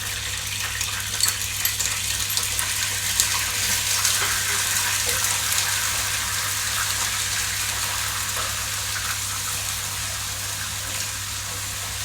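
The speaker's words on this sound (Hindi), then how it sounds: "अब हम इसके अंदर अदरक लहसुन का पेस्ट डाल के 1 मिनट के लिए फ्राई कर लेंगे।" Ginger garlic paste frying in a pan for a mutton korma, a steady broad hiss and crackle of sizzling oil lasting throughout at an even, fairly loud level with no voices.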